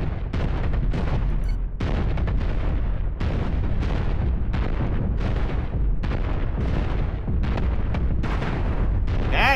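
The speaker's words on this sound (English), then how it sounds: "so you might as well be firing your missiles" Repeated missile launches and impacts in the space combat game Cosmoteer, a dense run of loud booming blasts and bursts overlapping with no pauses, continuous heavy gunfire-like rumble throughout.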